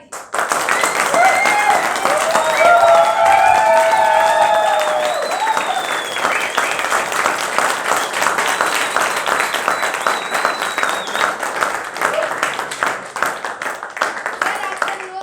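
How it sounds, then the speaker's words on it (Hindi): Theatre audience applauding after a Hindi stage play, Aadhe Adhure, dense sustained clapping from a full house that stays loud throughout and tapers slightly toward the end. "आपकी तालियों की गड़गड़ाहट बता रही है कि आप लोगों को नाटक कितना पसंद आया"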